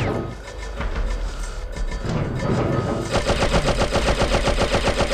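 Rapid bursts of gunfire in the video game Oddworld: Abe's Exoddus, loud, fast and sustained, growing into dense, evenly spaced shots in the second half over the game's background sound.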